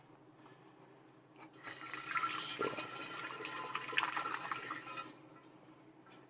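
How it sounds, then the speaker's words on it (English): Bleach and water pour through a funnel into a glass jug, a gurgling, splashing liquid stream that swells for about three seconds and then stops, fairly close, with a single brief spoken word before it. "Now I'm gonna add some bleach using my funnel"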